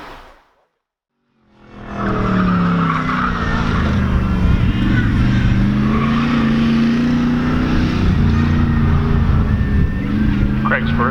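A Dodge Challenger on an autocross course on taller test tires launches after a brief silence into a loud, sustained engine roar that keeps rising and holding, with occasional tire noise and a voice heard over it.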